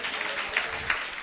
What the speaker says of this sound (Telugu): చప్పట్ల కొట్టి గట్టిగా స్తోత్రం చెప్పండి,